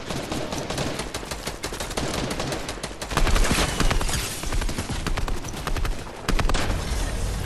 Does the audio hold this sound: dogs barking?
no